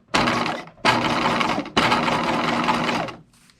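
A sewing machine zigzag-stitches elastic onto a slip in three close, steady whirring bursts, each about a second long, separated by short pauses.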